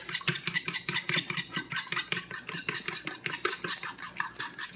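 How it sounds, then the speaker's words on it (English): A fork beats eggs in a bowl, a fast steady rhythm of light metallic clicks and scrapes close up, continuing for several seconds with no talking. "we're gonna beat your eggs"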